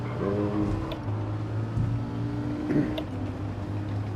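A car engine in a racing video game, a WTC 600 event on Tokyo South counterclockwise, revs up in a couple of rising bursts over a steady engine drone, moderately quiet with no speech.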